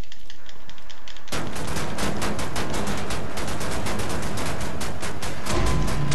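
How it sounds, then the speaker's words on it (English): Dual shotguns blast in rapid succession in Wolfenstein: The New Order on PS4, a loud, dense barrage of booming shots that runs almost without pause after a brief quieter opening. "Um, dual shotguns."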